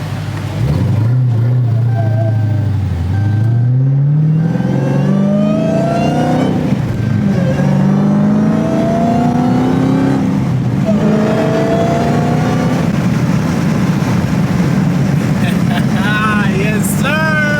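A manual Dodge Hellcat fitted with a loud new intake accelerates hard, its engine roaring up through several rising gear pulls with brief shifts between, very loud and close, with voices talking over it.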